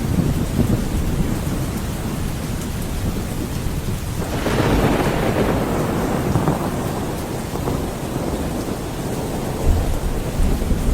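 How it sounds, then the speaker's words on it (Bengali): Heavy rain pours in a dense, steady downpour, and roughly midway a deep rumble of thunder swells and rolls off slowly while the rain keeps hammering on without any voices. "মুষলধারে বৃষ্টি হচ্ছে।"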